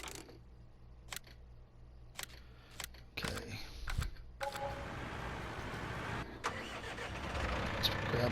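Tractor engine in Farming Simulator 19 cranking and catching, a few ticking clicks before it starts, then a steady mid-pitched idle rumble that fills the rest, with a voice talking partway through.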